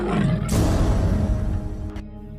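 A white tiger gives a loud, close roar, a short rough burst that swells and cuts off abruptly.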